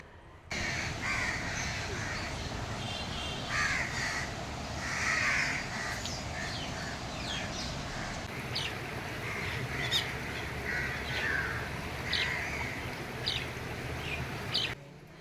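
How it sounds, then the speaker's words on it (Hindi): Many crows cawing with pigeons at a ghat on the Ganges, a dense, steady mix of harsh repeated caws and bird calls near and far over constant outdoor background noise, with no voices. "यहाँ पे इतने मतलब कौवा और कबूतर कितने सारे, आपको आवाज़ भी आ रही होगी मेरे ब्लॉग में"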